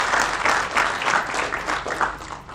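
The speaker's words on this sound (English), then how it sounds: "Again, another round of applause, please." Applause from an audience at an announcement of a drought insurance payout for Zimbabwe, a dense, steady round of clapping that swells and ebbs without pausing.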